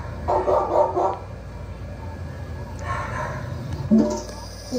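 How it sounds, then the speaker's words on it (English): A dog gives a short burst of yapping barks, then another brief bark near the end, over a steady low background hum. "But his dog was too playful."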